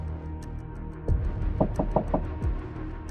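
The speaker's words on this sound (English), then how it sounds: "the knocking came again, more insistent this time" Knocking on a door, a single thud followed by a quick cluster of four insistent raps and one more knock, fairly close and clear over a low background hum.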